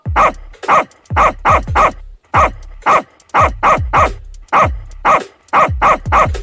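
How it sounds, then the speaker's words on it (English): A small dog barks in quick bursts of two or three loud, close yaps separated by short pauses, with no voices, as part of a children's nursery rhyme. "There was a farmer, had a dog, and Bingo was his name."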